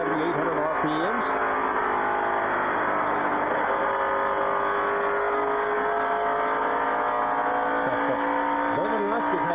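A NASCAR race car engine revs high at Pikes Peak in 1999, a sustained loud buzzing drone held near constant with brief pitch dips and climbs, under race commentary.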